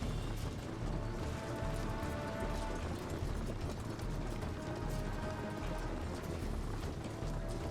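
Rain during a battle in Medieval: Total War Viking Invasion, a dense, continuous hiss with clattering mechanical texture throughout.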